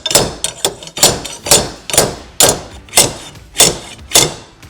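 Hammer-like thuds from a pull bar being struck to seat StabiliGrip flooring into its channels inside a GMC Savana van, about nine sharp, evenly spaced blows, close and loud with no talk.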